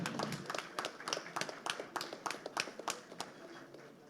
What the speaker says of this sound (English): So that's a round of applause to the Economic Growth Council for jumping on board.